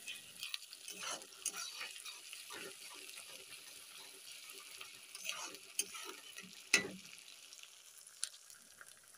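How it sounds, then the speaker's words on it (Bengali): Ground spice paste is stirred and mixed in a pan as a chicken dish cooks, with soft sizzling and intermittent scraping strokes and clinks of a spoon against the pan. "একের পর এক মশলা আমি দিয়ে ভালো করে মশলাটাকে মিশিয়ে নেব"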